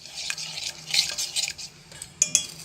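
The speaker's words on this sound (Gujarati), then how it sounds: "હવે આ બધું આપણે ચમચી વડે મિક્સ કરી લેવાનું" A spoon stirs spices in warm oil in a pan for a capsicum and chili dish, with close, irregular scraping and light metallic clinks in short bursts.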